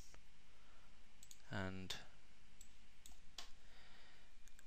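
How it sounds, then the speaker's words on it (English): Quick typing on a computer keyboard while labelling a start button in a game-engine interface, a few sharp clicks scattered over a steady background hum, with a brief spoken word. "we're going to just quickly type this as start button"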